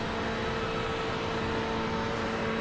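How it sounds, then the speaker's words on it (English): A race car engine in the iRacing sim strains up a long uphill climb at the Nürburgring, a steady, dense, unchanging drone that never climbs into a higher gear, loud and continuous with no voices. "Hear the engine struggling."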